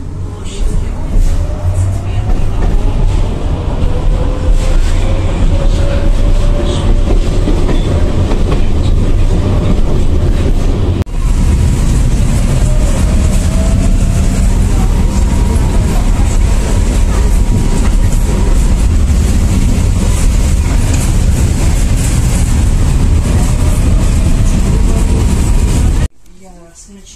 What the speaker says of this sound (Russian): Как тебе в трамвае? Нравится ехать?